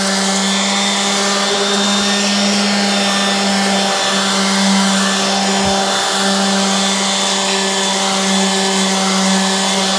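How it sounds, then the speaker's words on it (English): A power sander works over a galvanized cable railing post, a steady close whir with a strong constant hum running unbroken through the whole stretch, a couple of brief knocks along the way. "So we'll go ahead and get this sanded up."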